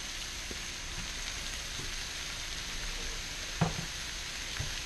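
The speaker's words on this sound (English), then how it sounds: "Yep, that's how they go in the pan. Just throw them in there." Brussels sprouts sizzle steadily in a pan as a constant hissing fry, with a few soft clinks and taps of the pan standing out near the end.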